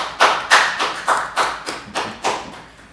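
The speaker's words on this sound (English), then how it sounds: "Let's give them a big round of applause." Slow, evenly spaced claps, about eight in three seconds, ring out close and fairly loud for two guests at a school safety assembly. The beats are distinct and no one speaks.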